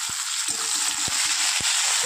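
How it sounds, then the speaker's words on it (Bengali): Onions and tomatoes sizzle steadily in hot oil with a constant crackling hiss, punctuated by a few soft thuds of stirring. "এবার ভাজা করে নেব"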